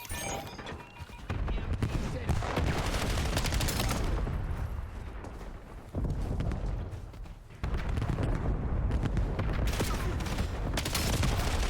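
Automatic gunfire rattles in dense, sustained bursts during a Black Ops 7 multiplayer match, loud and close with brief gaps between volleys.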